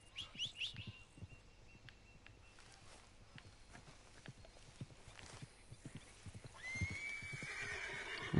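Horse in Red Dead Redemption 2 gives a sharp whinny at the start, then hooves clip-clop at a steady walk, with a louder breathy snort and rustle toward the end.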